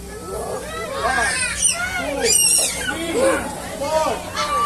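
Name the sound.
child imitating a monkey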